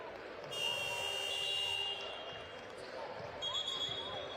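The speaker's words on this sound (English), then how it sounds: "the referee's going to stop the clock because the shot clock buzzer sounded" A shot clock buzzer sounds during a EuroLeague basketball game between Fenerbahce and Zaragoza, a steady high electronic tone under arena crowd noise and bouncing balls, with a second shorter tone near the end.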